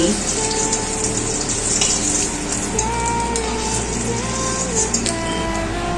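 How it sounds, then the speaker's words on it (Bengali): Hot oil sizzles and crackles continuously as koi fish fry in a pan, a close, steady frying hiss with no one speaking. "বাকি যেই মাছগুলো ছিল সেগুলো ভেজে নিচ্ছি।"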